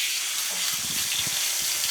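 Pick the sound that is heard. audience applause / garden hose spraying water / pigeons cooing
garden hose spraying water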